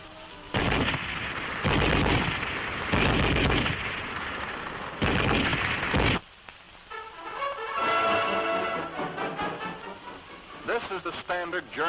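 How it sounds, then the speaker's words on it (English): A German Army MG34 7.92 mm machine gun fires several loud, sustained bursts, each about a second long with short pauses between them, followed by a quieter stretch of echoing rattles and softer sounds. "German Army machine gun"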